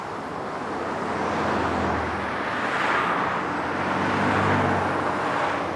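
A car rolls and rumbles along a grass verge beside a busy carriageway, a steady, rough road-vehicle drone with traffic noise behind it that swells and eases but never stops.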